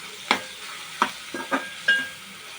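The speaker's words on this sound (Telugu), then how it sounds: "కారం వేసి బాగా కలుపుకోవాలండి." Chili powder being stirred into a frying ridge gourd curry: a handful of distinct scraping clacks of a spoon against the pan, spaced irregularly over a faint background, with no talking.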